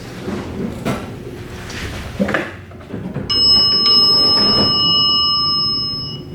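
After some shuffling and clunks, an Otis traction elevator's electronic bell chime, a sound effect rather than a mechanical bell, rings out with a sustained, ringing tone that slowly fades, loud and close.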